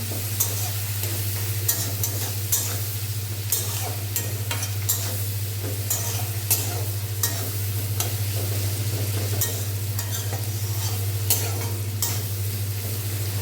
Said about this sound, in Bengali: এবার আমি এটাকে নেড়ে নেব লবণ আর হলুদ দিয়ে।